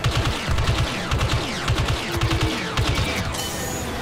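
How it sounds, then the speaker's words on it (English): Sustained automatic blaster fire in Star Wars Battlefront II, loud and close, rapid rhythmic bursts repeating over several seconds with short gaps and layered explosive crackle. "I'm shooting him"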